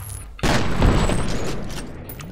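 A gunshot in the video game F.E.A.R. lands as a sudden loud boom with a heavy, lingering reverberant tail and some faint clatter after it.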